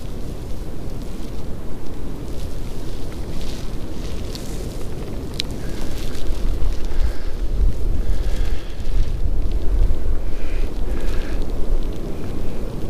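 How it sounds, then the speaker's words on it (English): Strong wind blows outdoors on an Appalachian Trail hike, a loud, steady roaring rush of wind buffeting the microphone, swelling slightly in the second half. "I hope you can hear me, because the wind is blowing."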